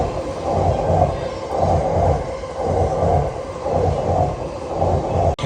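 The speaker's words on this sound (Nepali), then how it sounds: "यो चाहिँ अर्को ट्रेन हो, म यसमा जाने होइन" A train rolls into a station, a loud rumbling roar with rhythmic pulsing swells of wheels over the rails, close by and continuous with no talking.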